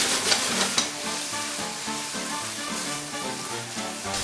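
A vegetable dry curry sauce made with ketchup, soy sauce and sugar simmers in a pan, giving a continuous close sizzle and bubbling with a few sharper pops early on, with no voices.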